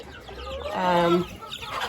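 Backyard mix chickens and red star laying hens cluck close by, a rising, tonal cluck-call swelling for about half a second amid soft background murmurs.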